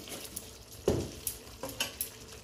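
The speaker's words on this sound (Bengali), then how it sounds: "মিষ্টিটা মিশিয়ে দিই।" A spoon stirs sugar into a vegetarian cauliflower and potato curry, fulkopir murighonto, over a low sizzle, with a handful of soft scrapes and taps against the pan, one louder clack near the start.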